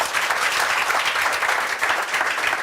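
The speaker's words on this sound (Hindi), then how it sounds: "तालियां बजा दो बेटा।" Parents and children clap for a teacher being congratulated on a maths teaching selection, a steady, moderately loud patter of many hands that fills the moment with no talk.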